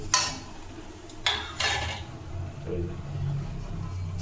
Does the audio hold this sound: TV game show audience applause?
no